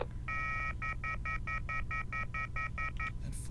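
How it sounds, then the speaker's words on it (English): Rapid touch-tone dialing beeps from a phone call in the video game YIIK: A Postmodern RPG, about a dozen evenly spaced tones over a steady low background hum, ending with a brief high click. "That phone call was surely one of the strangest I've ever received"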